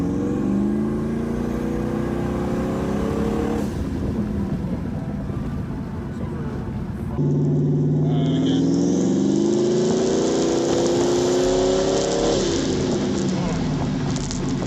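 A twin-turbo LS-swapped BMW E36 revs in repeated rising pulls, its engine note climbing with turbo whine layered on top and an abrupt change near the middle, with a voice talking over it.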